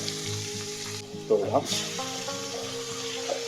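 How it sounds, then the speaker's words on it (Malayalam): Chopped onion hitting hot oil in a home kitchen pan: a steady, loud sizzle and frying hiss, briefly stirred, with faint background tones and voices. "നമ്മൾ എണ്ണ ചൂടാൻ വെച്ചിട്ടുണ്ട് നമുക്ക് അരിഞ്ഞ് വെച്ച സവോള ഇട്ട് കൊടുക്കാം"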